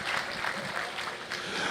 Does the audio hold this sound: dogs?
no